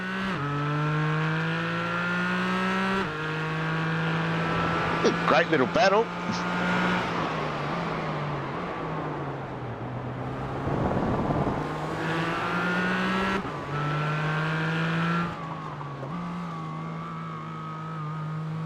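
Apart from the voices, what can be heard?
GT4 race car engine, throttle feathered through a turn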